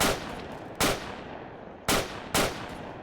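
Pistol shots ring out in an Arma 3 Vietnam-era firefight, four sharp loud cracks in an uneven pattern, each trailing off into a reverberant tail over low background noise.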